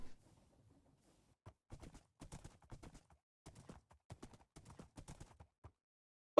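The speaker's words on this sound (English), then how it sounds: "Now I also brought the horse in case we need to ride out a couple blocks." Horse hooves clip-clop in a Minecraft-style video game, with a brisk run of sharp, close hoof clacks in irregular clusters after a quiet start, and no speech over them.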